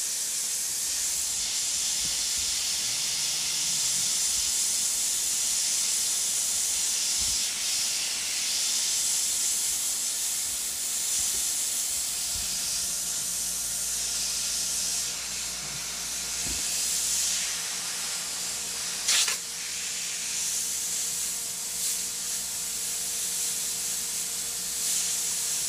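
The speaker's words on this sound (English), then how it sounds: "I'm gonna go back, spray lightly over top of what I did on the bottom of the neck" Continuous hiss of an airbrush spraying paint onto a black shirt, a steady airy spray running throughout with brief changes in pressure, close and fairly loud, with no talking.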